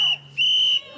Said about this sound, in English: The whistles are a new community tactic to alert people that ICE agents are in the area.